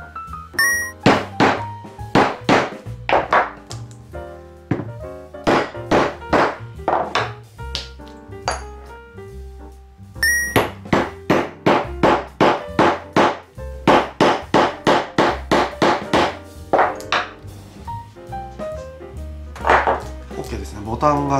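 Sharp hammer blows strike a punch to make a hole in a homemade leather case for an Opinel knife. The knocks come in repeated bursts of quick strokes with short pauses between them, loud and close.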